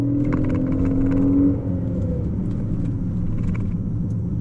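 Inside a 2015 Chevy Impala LTZ driving on country back roads, the engine hums with a steady low rumble and a brief rising whir early on, smooth and continuous with no talking.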